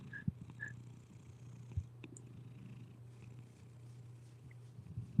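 A cat purrs steadily and close up, a continuous low rumble running through the whole stretch, with a few faint bumps and handling noises on top.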